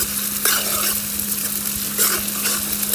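Fish curry is stirred in a pan, with a constant close sizzle and repeated scraping strokes of a spoon, all over a low steady hum.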